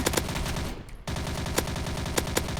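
Rapid automatic gunfire in the Roblox game Military Tycoon, dense loud bursts of shots that cut out for a moment and then resume just as fast, with no talking.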